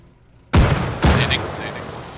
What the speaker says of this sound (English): Getting a grenade in.